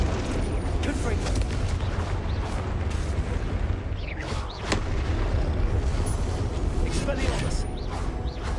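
Confringo fire spell explosions in Hogwarts Legacy during hard-difficulty Dark Arts combat: a dense, roaring wash of spell blasts and rumbling impacts, with one sharp burst near the middle, constant and loud throughout.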